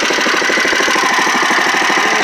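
A small engine runs at a close, loud idle after an electric start, a rapid, even chugging pulse that holds steady throughout.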